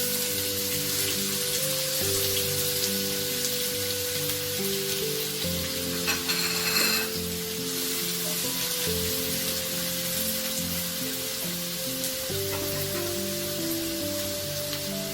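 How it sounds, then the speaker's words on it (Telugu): Onion pieces frying in hot oil for a quick chicken fry, a continuous crackling sizzle over a steady low droning hum, with a short burst of louder spatter partway through. "ఆయిల్ వేడవగానే ఈ ఆనియన్ పీసెస్ వేసుకోవాలి."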